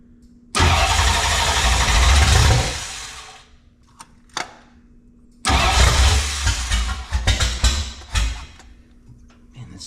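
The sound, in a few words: classic car V8 engine cranking and starting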